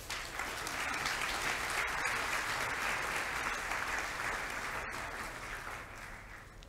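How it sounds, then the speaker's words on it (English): A college assembly audience applauds a homeroom class, a steady wash of many hands clapping at moderate distance that holds for several seconds and tapers slightly at the end. "A round of applause for 7F."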